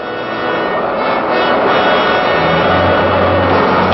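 A Me 163 Comet rocket-powered interceptor aircraft roars steadily and loud, a dense continuous rushing engine noise that holds level throughout with no voices.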